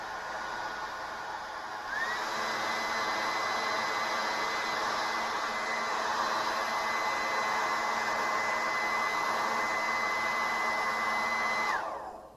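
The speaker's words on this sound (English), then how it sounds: "Just blow a warm hair dryer." A hair dryer switches on and blows warm air over pressed cotton with a steady, loud whir for about ten seconds, then cuts off.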